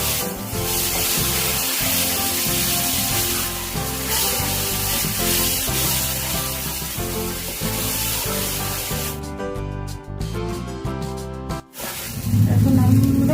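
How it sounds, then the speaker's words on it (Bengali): Poppy seed and mustard paste frying in a pan over a medium flame, giving a steady broadband sizzle under background music that thins out briefly before the sizzle returns louder near the end. "আপনারা মিডিয়াম ফ্লেমে আঁচটা রেখে আপনারা ভালো করে ভেজে নেবেন"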